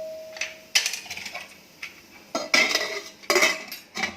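Metal clinks and clatter as a lid goes onto a pressure cooker on a gas stove with popcorn kernels starting to pop inside, several sharp bright knocks spaced across the moment, close and fairly loud.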